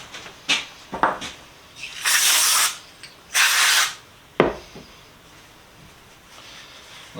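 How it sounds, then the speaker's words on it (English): Short hissing bursts of brake cleaner sprayed onto a cast iron chiminea being restored, two longer sprays between scattered clicks and knocks of handling, close and fairly loud against a quiet background. "I might just wipe the whole thing down with brake cleaner."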